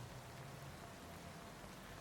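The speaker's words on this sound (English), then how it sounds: "Want some more rain noise." Soft, steady rain ambience plays as a faint, even wash of noise with no talking, continuous throughout.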